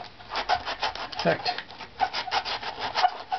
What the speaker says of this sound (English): So here I'm pushing down with the sandpaper here and moving it in that direction